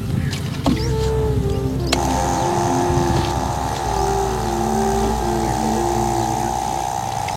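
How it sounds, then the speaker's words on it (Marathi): A small engine-driven pesticide spray pump runs steadily on a farm, a continuous motor drone with a sharp click near the start and low tonal hum throughout. "चालू कर पंप."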